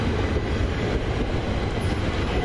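Class 375 electric train arriving from Ramsgate, a loud, steady rumbling roar of wheels and motors passing close by with no speech.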